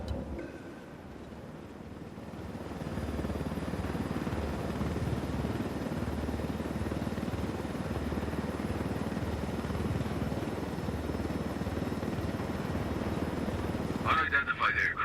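Low-flying helicopter in Ghost Recon Wildlands threading through a canyon, a steady loud rotor drone sustained throughout, with wind rush and voices talking over it.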